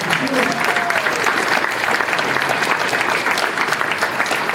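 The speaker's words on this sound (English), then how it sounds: "Let's give her a round of applause." Loud, sustained applause from an audience at a hall of fame induction in Albert Lea, honoring a former high school volleyball coach, a dense steady wash of clapping for the whole stretch.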